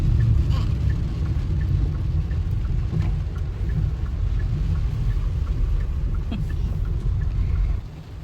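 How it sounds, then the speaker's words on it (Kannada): Steady heavy rain roars with a deep continuous rumble, loud and unbroken, easing slightly at the very end. "ಅಲ್ಲಿಂದ ಮುಂದೆ ಬರ್ತಿದ್ದ ಹಾಗೆ ಮಳೆ ಮಾತ್ರ ಸಖತ್ತು ಜೋರಾಗೋಯ್ತು"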